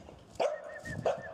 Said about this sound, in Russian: какая тут у нас собачка красавица